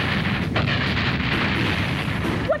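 Explosions in a 1995 G-Force cartoon: a steady, dense roar of booming blasts rumbles continuously at close range, with a brief brighter pop near the end.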